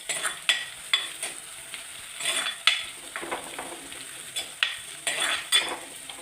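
Kudampuli, dried Malabar tamarind, frying in oil for Kerala fish curry: a steady bright sizzle broken by repeated utensil scrapes and stirring clatters against the pan, close and moderately loud, with no voices.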